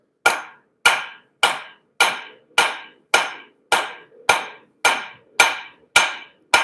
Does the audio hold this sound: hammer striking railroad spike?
yes